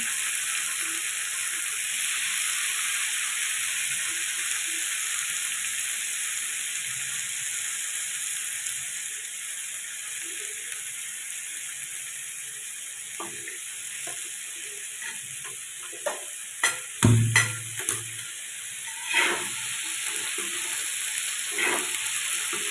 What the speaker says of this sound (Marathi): आपण छानपैकी परतून घेतो